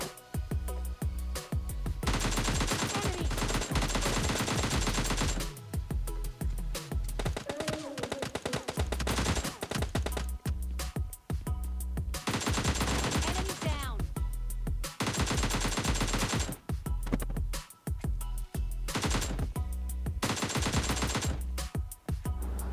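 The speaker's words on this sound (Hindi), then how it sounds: "बहुत ही ज़्यादा गोलियां पेन पे टच हो गई" Gunfire in the video game PUBG Lite strikes a pan, with dense bursts of rapid automatic shots broken by short gaps, loud and continuous over most of the stretch.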